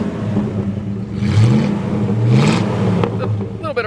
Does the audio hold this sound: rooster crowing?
no